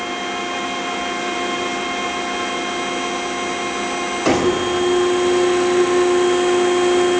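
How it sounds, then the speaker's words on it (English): An Extrude Hone Profile 200 abrasive flow deburring machine drones with a constant whine as its top cylinder pushes the abrasive media down to the bottom cylinder, and the pitch shifts partway through near the end of the cycle. "Top's pushing down now, finishing up, shunning the media back down to the bottom cylinder"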